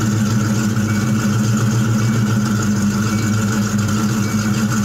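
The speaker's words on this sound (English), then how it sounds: "The sound you heard of that small cam 302 was idling with side gap spark plugs." A small-cam Ford 302 V8 fitted with side-gapped spark plugs idles with a steady, loud, continuous lope that holds evenly throughout, with no talk over it.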